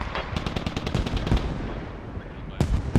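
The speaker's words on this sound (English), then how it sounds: "they have mortar fire coming down on the Australian tank" Mortar rounds and gunfire rumble in a video game battle as shells rain down on an Australian Abrams tank, a dense burst of rapid cracks and booms with two sharp blasts near the end.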